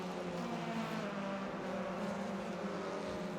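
Race cars in a touring-car racing video game at Donington Park GP, a steady engine drone with a sustained whining hum like cars passing at a distance, fairly faint and continuous.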